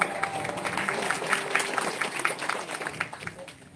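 An audience claps during a speech at a gathering in a Shaiva monastery, with a burst of loose applause that thins out toward the end while a speaker's voice runs faintly underneath.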